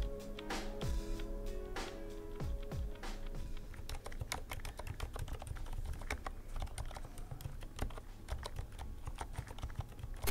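Fast typing on a mechanical keyboard fitted with its lightest and quietest switches, a dense, steady stream of soft close clicks and keystrokes with no talking.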